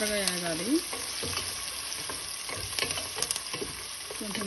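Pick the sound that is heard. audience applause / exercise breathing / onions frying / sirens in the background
onions frying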